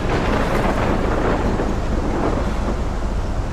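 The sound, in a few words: thunderstorm in video game Life is Strange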